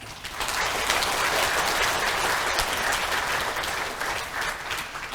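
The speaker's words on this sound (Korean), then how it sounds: "여러분 이분들을 위해서 박수를 한꺼번에 쳐주시기 바랍니다." Audience applause fills a conference hall at the National Assembly during a veterans' rally, loud and steady clapping from a large crowd that swells quickly and holds throughout before easing slightly at the end.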